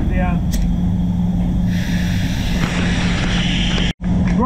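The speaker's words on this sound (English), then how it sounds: "I'm going to spend a minute with the air blower and dry this down" An air blower drying a fresh pearl paint coat on a Nissan X-Trail makes a loud, steady, close rushing roar. It runs almost without a break and cuts out briefly near the end.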